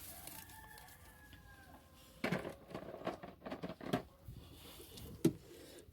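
Chickens clucking and a rooster crowing inside a chicken barn, fairly faint with scattered close clucks, shuffling and a sharp knock near the end.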